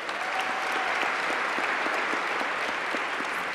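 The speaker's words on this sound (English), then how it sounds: "Can we give him a big round of applause?" An audience at a school awards show claps steadily, a dense even wash of applause at moderate distance for a few seconds.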